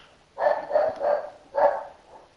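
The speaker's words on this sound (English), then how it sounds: "Fucking dumb dog." Dog barking close and loud, four gruff barks in a quick cluster followed by a softer trailing yip, heard alone.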